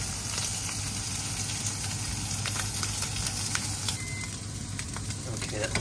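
An egg fries in a hot pan with garlic and leftover chicken, giving a loud, continuous sizzle with crackling pops and the scrape of stirring throughout, heard close by.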